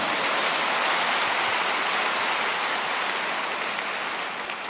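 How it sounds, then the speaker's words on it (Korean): Large congregation at the 50th Full Gospel World Mission Convention bursts into sustained, dense applause, a loud hissing wash of many hands that holds steady, then eases slightly at the end. "하나님께 뜨거운 박수로 영광을 올려드리겠습니다"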